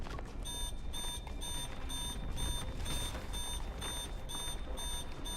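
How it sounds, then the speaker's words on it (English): Layered electronic alarms in the Love and Deepspace video game beep in steady repeating pulses, several tones stacking over a dense low rumble, loud and continuous with no voices. "Alarm sound one after another."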